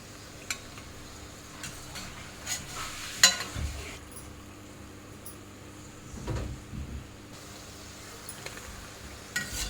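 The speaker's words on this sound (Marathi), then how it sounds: "आता आपण अशा सर्व ह्या सर्व कापण्या याच पद्धतीनं तळून घेऊया" Kapnya snacks made from wheat flour and jaggery frying in oil, a faint steady sizzle with occasional soft clinks and utensil scrapes, no talking.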